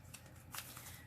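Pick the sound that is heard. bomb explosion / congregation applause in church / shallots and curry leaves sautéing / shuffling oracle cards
shuffling oracle cards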